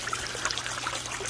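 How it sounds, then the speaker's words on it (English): Water from a rock fountain trickles and splashes steadily into its basin, a continuous bright, bubbling patter heard close and alone. "Now if I turn it up, it gives it a more robust fountain, but the problem is you have to remember where your basin is and it'll splash out"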